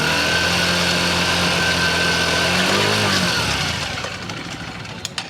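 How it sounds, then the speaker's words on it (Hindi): A TVS 100 cc motorcycle engine runs at a steady idle for about three seconds, then its even hum drops away and fades as the engine shuts off, heard close with no talking. "थोड़ा सा स्टार्ट भी कर लेते हैं जिससे आप इसकी आवाज़ को भी सुन पाएँ।"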